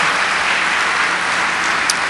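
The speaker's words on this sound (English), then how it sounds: "All right, give them a round of applause." Audience at a National Academy of Engineering Grand Challenges Summit panel claps loudly and steadily, a dense close burst of applause throughout.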